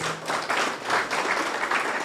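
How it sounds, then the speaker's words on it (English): An audience at a book launch gives a brief burst of clapping for a former minister. The applause is moderately loud, steady and fairly diffuse, and there is no talk during it. "Give him a clap"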